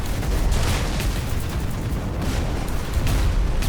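Explosions from an aerial bombing run in the video game Warhammer 40,000: Dawn of War IV, a dense, continuous rumble of overlapping booms and blasts, loud and close with no talk over it.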